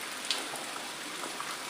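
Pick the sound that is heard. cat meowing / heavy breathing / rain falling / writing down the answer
rain falling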